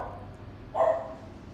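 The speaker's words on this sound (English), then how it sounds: "You could hear my dog barking." A single short dog bark, somewhat distant and muffled, rising briefly out of a quiet background.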